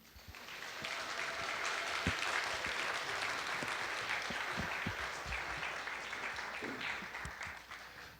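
An audience at an author's lecture claps warmly in welcome, a dense sustained round of applause with a few sharper individual claps, rising quickly and fading at the end.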